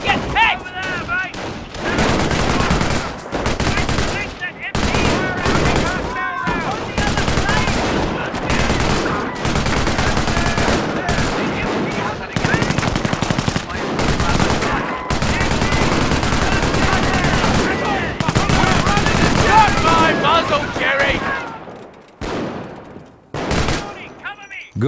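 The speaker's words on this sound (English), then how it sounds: "An MG emplacement is an excellent defense against attacking infantry." A machine gun emplacement fires at attacking infantry in the Company of Heroes video game, sustained loud bursts of automatic gunfire mixed with other gunshots and explosions, running almost continuously before briefly thinning out near the end.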